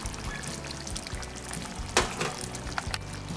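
A teaspoon of ghee poured into a simmering vegetarian potato and cauliflower curry gives a soft, brief liquid splash near the middle, over a steady close-up bubbling sizzle from the pan.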